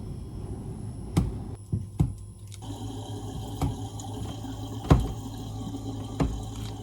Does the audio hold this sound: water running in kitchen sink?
yes